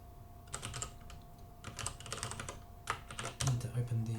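Quick bursts of clicking keystrokes on a computer keyboard, in short uneven runs with pauses, quiet and close, ending with a brief voice.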